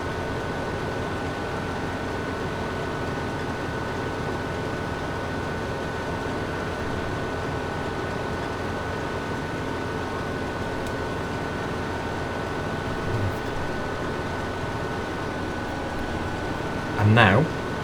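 A combine harvester engine in the Farming Simulator 2015 video game, at Sandy Bay with a Holmer machine, hums as a steady droning rumble, with a brief louder clunk near the end.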